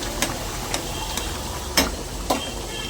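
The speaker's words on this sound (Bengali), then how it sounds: "তো এরপরে আমার ঝোলটা ফুটে গেছে, তো তারপরে আমি ভেজে রাখা মাছগুলো একে একে দিয়ে দিই।" Tilapia curry gravy with drumsticks, potato and tomato simmers in a pan as fried fish pieces go in, giving a soft steady bubbling hiss broken by a few sharp clicks and taps, with no talking.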